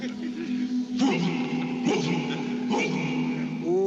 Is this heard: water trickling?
no